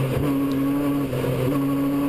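Hot rod race car engine at a racing event, throttle feathered so the steady droning note dips and recovers in short modulations, heard at a moderate distance with no voices.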